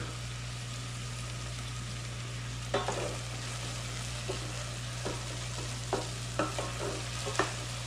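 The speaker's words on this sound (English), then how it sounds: "We'll just stir this around, and the oil will give us a little bit of more of a base" BBQ sauce ingredients sizzle in oil in a pan as a utensil stirs with sparse soft scrapes and knocks, close and fairly quiet over a constant low hum and sizzle hiss.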